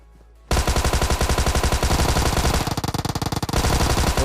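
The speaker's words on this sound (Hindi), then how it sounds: "ऊजी भी कोई हल्की वल्की गन नहीं है" An Uzi submachine gun in PUBG Mobile lets off a long, loud, continuous burst of rapid automatic fire right after a brief quiet start, keeping a steady fast rhythm up close with no pause.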